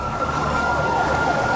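A siren wails steadily at a national border at night, a sustained rising-and-falling tone that fills the whole stretch over a dense background.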